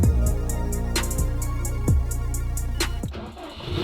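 A 2002 Subaru WRX engine runs steadily at a loud, close idle with repeated rhythmic pulses, a few sharp transients breaking through the drone.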